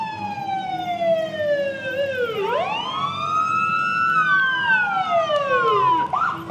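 A Delhi Police Department car moves through a small-town harvest parade in Cheviot, Ohio, its siren wailing loudly and close with rising and falling sweeps.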